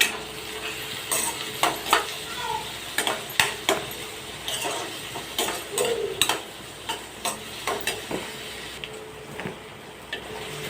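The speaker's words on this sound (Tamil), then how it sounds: "பூண்டை ஆட் பண்ணி வதங்கின உடனே நம்ம நெக்ஸ்ட் வந்து ஆனியன் வந்து ஆட் பண்ணிக்கலாம்" Onion and garlic sautéing for egg noodles, with a soft sizzle under repeated clicking spatula strokes against the pan, some sharp and close, others lighter, without any speech.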